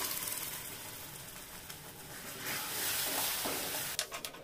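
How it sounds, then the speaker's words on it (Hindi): Gravy poured into roasting spices with coriander powder in a pan for paneer makhani, a steady close frying hiss with soft stirring, swelling near the end with a few brief scraping clicks. "भूनने के बाद हमने जो एक ग्रेवी बनाकर तैयार करी है वो डाल देंगे।"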